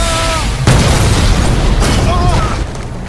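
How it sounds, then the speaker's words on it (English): Explosion in a Batman cartoon, a loud booming blast that rumbles on for several seconds, with a short burst of cartoon voices or sound effects over it. "and it explodes."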